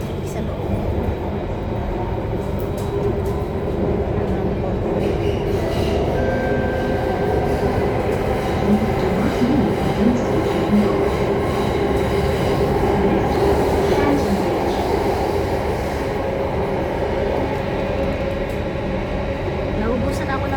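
An MRT metro train in Singapore rumbles continuously from inside the carriage, with steady rolling wheel noise and faint squeals, while people talk over it.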